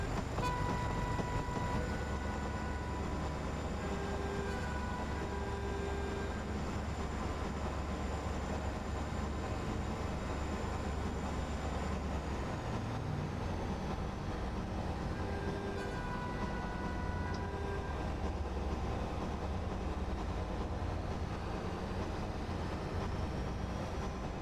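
A train in a simulator sound pack rolls along with a steady low rumble and wheel drone, passing through a tunnel as the tone shifts midway, with faint whining tones above, sustained and continuous with no talking.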